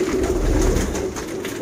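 Sialkoti pigeons coo steadily and close up, a low rolling murmur that carries through the clip without pause, with no voices over it.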